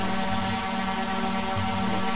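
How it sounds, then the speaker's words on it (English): A steady, high-pitched motor whine hums without pause, like a small drone's rotors spinning fast at close range; a drone flying fast in the video game ARMA 3. "A drone sounds like this fast."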